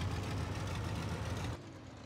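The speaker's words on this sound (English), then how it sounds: "This, by far, though, has to be my favorite rake tractor. I mean, it sounds so good." A rake tractor in Farming Simulator 22 idles with a steady, low rumbling drone that drops to a quieter level near the end; no one speaks over it.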